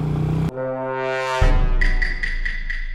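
A motorbike rider on the road hears a vehicle horn: a loud, sustained blare sounding twice, the second blast joined by higher, brighter tones, close by over road noise.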